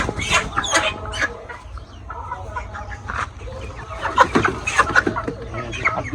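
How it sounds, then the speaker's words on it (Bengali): Many farm chickens cluck and squawk close by in a busy, overlapping flurry of short calls, with steady low background noise underneath. "কাকুর ফার্ম থেকে অনেকগুলো মুরগি নিয়ে আসলাম"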